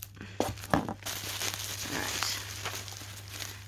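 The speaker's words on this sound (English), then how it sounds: "I'm going to try and preserve the bubble wrap as much as possible" Bubble wrap packaging from a plant nursery order being unwrapped, with soft crinkling and a few sharper rustles and snips close by, no talking.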